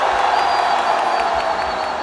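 A large rally crowd in Korea shouts and cheers together in a steady, loud roar, with bits of clapping and whoops mixed into the mass of voices.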